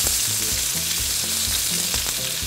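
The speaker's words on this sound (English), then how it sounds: "Now the gnocchi, I'm going to start turning over." Cauliflower gnocchi fry in oil in a pan over medium-high heat, giving a loud, close, continuous sizzle and crackle with no talking.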